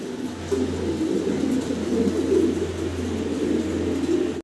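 Fancy pigeons cooing steadily and close by, with overlapping soft, throaty coos that continue throughout over a constant low hum.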